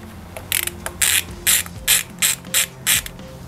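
Ratchet wrench tightening bolts on a Yamaha Zuma 158cc scooter's intake manifold, with about eight quick, close, evenly spaced metallic clicking bursts and no talk.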